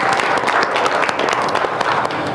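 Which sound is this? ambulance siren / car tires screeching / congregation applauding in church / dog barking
congregation applauding in church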